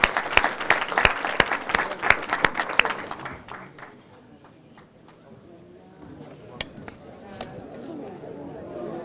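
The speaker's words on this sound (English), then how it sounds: "I hope you'll give a round of applause to everybody present who's made it" An academic lecture audience breaks into a burst of clapping that gradually dies away, leaving faint room murmur, chatter and a few stray claps.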